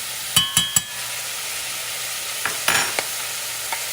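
Garlic goes into a pot of onions, green peppers, bay leaves and pepper for a vegetable soup, with a soft steady sizzle broken by a few sharp utensil clinks and stirring scrapes.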